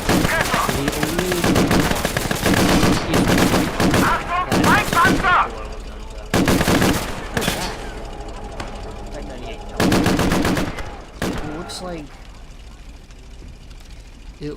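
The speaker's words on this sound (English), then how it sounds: "Is this a heavy machine gun?" Heavy machine gun fire rattles in the war game Call to Arms: loud, close, rapid bursts repeat in uneven spurts, with brief pauses between volleys and quieter clatter in the gaps.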